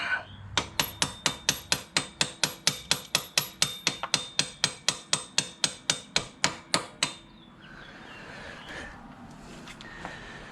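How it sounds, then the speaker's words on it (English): A bolt being tapped out of a WR250R motorcycle with a hammer, about two dozen sharp metallic strikes in a fast steady rhythm for about seven seconds, then quiet handling noise, close and alone. "we're going to tap bolt out."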